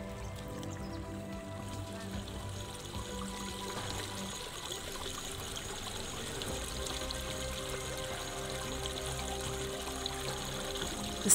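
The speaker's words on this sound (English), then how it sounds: "The sound of water is just so peaceful." Water pours and trickles in a steady, soft stream while cherry tomatoes are transplanted in a garden, a gentle, continuous flow with no talking.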